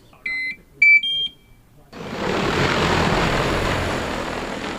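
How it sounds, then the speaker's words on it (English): A large 50-litre agricultural spraying drone lifts off, its rotors rising into a loud, steady broadband roar that holds on close by after a few short electronic beeps. "a big 50-litre agricultural drone which is designed for spreading and spraying in agricultural settings"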